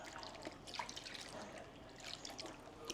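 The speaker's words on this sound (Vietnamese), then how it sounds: "Mình sẽ đổ nước vào ngâm nấm." Water poured into a bowl of dried shiitake mushrooms to soak them in a home kitchen: a soft, steady trickle and splash, fairly quiet and continuous, with no talking.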